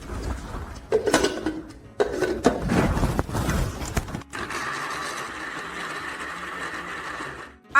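A kitchen blender blends chicken pieces with a little water for homemade mortadella. Clattering and knocking come first, then the motor settles into a steady, loud whirring grind that runs to the end.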